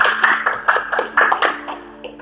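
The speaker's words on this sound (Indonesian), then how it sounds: "beri tepuk tangan untuk Rizky." Classroom applause for a student at a vocational school lesson on motorcycle automatic transmission, a steady burst of clapping lasting about two seconds before fading out.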